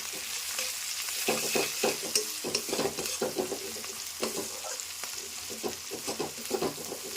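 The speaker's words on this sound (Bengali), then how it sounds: "এটা এবার ভালো করে নেড়ে নেব যতক্ষণ না আদার কাঁচা গন্ধটা চলে যাচ্ছে।" Ginger and green chili sizzle in oil with salt and turmeric while a spoon stirs and scrapes the pan in uneven strokes. Steady frying hiss runs underneath, close and clear, with no voices.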